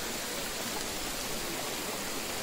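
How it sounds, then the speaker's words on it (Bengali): Water from mountain waterfalls streams down toward a lake, a steady dense hiss of falling and rushing water, even and unbroken throughout with no voices. "আর এই যে উপর থেকে যেসব ঝর্ণার জলগুলো, এগুলো সব যাচ্ছে ওই লেকে।"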